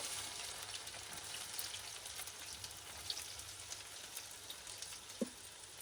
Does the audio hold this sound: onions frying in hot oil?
yes